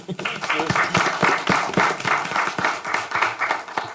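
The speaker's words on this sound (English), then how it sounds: "Now we can give them a round of applause." An audience at a city committee meeting claps steadily for about four seconds, a dense, continuous round of applause in a meeting room.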